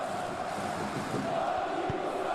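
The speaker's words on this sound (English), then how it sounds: "the crowd clearly like what they just saw" A stadium crowd in a football video game gives a sustained, dense murmur and cheer, carrying evenly at moderate loudness without a clear peak.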